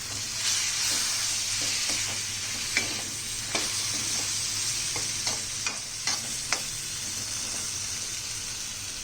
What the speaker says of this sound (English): I'm also adding in tomatoes because then I can stir all of it at once